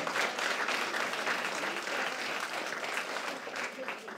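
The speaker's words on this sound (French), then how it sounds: "je mets une bonne main d'applaudissements pour ces personnes-là" Steady applause from an audience at a 2025 awards ceremony, a dense continuous patter of many hands clapping throughout, fairly loud and sustained with no gaps.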